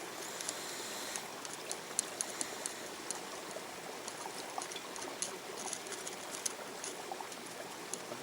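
Water washes steadily over sediment in a gold pan outdoors, a soft continuous trickling rush with small clicks of grit, no voices.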